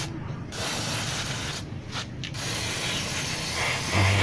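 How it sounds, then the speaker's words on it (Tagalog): Cleaner sprays onto car mag wheel rims as they are washed, with long, loud, close bursts of hissing spray separated by brief pauses. "Dami yung spray na yan. Daming dumi. Nalalaglag talaga."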